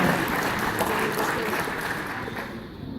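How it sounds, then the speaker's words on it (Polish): Crowd applause at a sports-of-the-year awards ceremony in Kielce, a steady wash of clapping from a large hall audience, moderately loud and continuous throughout. "Wielkie brawa."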